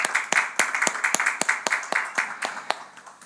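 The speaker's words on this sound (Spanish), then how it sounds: "Vamos a dar un aplauso para aquellos que pudieron venir" Applause from a congregation during a Sunday church service, sharp claps in a steady, fairly close rhythm at moderate loudness over about three seconds, fading slightly toward the end.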